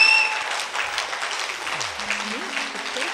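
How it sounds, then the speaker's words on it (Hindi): A large audience at an anniversary celebration in Bhubaneswar, Odisha claps loudly and steadily, a thick sustained wash of applause with a few voices audible over it. "एक बार जोरदार तालियां अपने लिए।"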